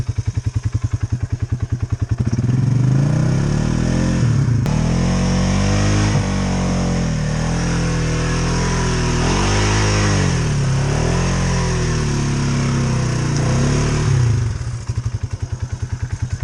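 Polaris Sportsman 570 ATV engine revving hard in a swamp, loud and close, rising and falling through several surges over a chugging idle, with no voices.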